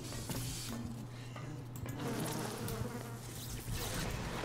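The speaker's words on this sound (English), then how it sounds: "Bees, fucking bees!" Insect buzzing from a swarm of bees in the video game BioShock, a dense, continuous drone holding steady throughout at moderate level, with no talk over it.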